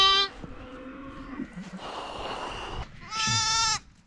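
Lambs on a farm bleat loudly nearby, one sharp call at the start and another longer bleat near the end, with rustling outdoor ambience between.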